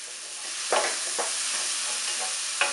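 Fish omelette ingredients with salt sautéing in a hot pan, a loud steady sizzle with a few quick spatula strokes, no talk.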